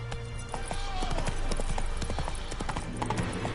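Hooves of a horse clip-clop at a brisk gallop in The Witcher 3, a steady loud run of thudding beats with occasional creaks and a faint whinny, while a voice speaks briefly.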